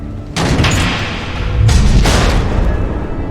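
Missile explosions in Batman: The Telltale Series, with loud, close booming blasts that roll into one another and rumble on without pause.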